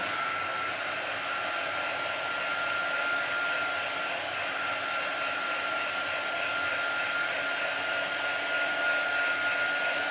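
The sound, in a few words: quick dryer drying craft paint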